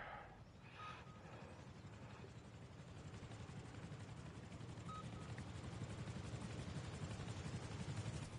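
An attack helicopter in Rust Console Edition, a faint steady rotor drone holding throughout, slightly swelling toward the end, with a few thin tonal blips over it.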